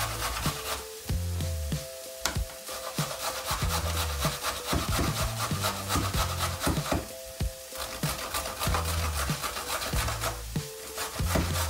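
A vegetable is rubbed quickly over a coarse grater while borscht is being made, giving a continuous rhythmic scraping with repeated rasping strokes, close and fairly loud, without talk.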